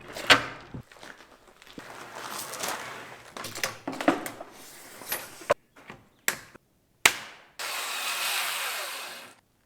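A power tool cuts plywood for a table in a truck camper build, heard as several short loud bursts and clatters separated by pauses, ending in a sustained harsh whirring run.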